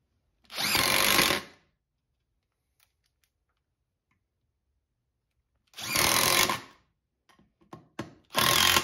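A power drill drives strong wood screws into a 14-inch wood bowl blank for lathe mounting, in two loud, close whirring bursts with a brief stuttering trigger pull just before the second.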